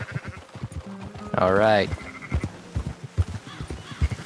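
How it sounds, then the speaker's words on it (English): A sheep in Red Dead Redemption 2, herded toward Valentine, lets out one loud, wavering bleat mid-clip while someone talks before and after it, with hoof clops in the background. "We're going to sell these sheep"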